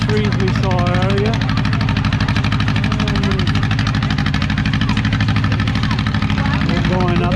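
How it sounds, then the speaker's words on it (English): A loud tractor engine runs steadily nearby with a throbbing, knocking idle-like chug, while a person talks over it on a hillside outing near an old furnace at Christmastime. "Sorry, the tractor's really loud."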